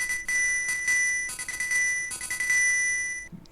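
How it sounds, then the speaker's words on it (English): Coral triangle instrument from the Link's Awakening DX video game, a bright ringing chime that sounds a single note over and over, repeated strikes that sustain and then fade out near the end. "It's an instrument that is only able to play one note. The coral triangle."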